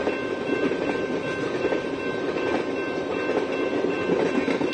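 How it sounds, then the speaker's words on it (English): Deep, continuous rumble during an Iowa supercell storm, either a passing train or a tornado, steady and loud throughout with broad roaring noise and no voices. "I'm not really sure if this is a train or a tornado"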